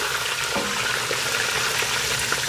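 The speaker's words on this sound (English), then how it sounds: "You can hear the crispiness of the tallow" Beef tallow fries crisply in a pot, a dense, steady crackle and sizzle of bubbling fat, close and constant with no other sounds.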